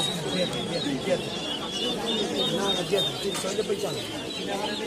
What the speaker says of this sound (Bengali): চিরাগোলা কবুতর দেখাচ্ছি আপনাদেরকে